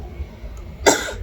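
A single sharp cough, part of a garlic-breath prank, bursts out near the end after a stretch of quiet room noise; it is close, brief and loud.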